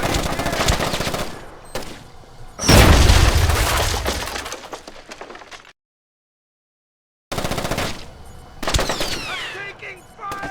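Loud bursts of automatic gunfire and impacts in Splinter Cell: Chaos Theory, with rattling volleys and a heavy booming hit. A few seconds of total silence break the fire before more shots and sharp ringing impacts follow.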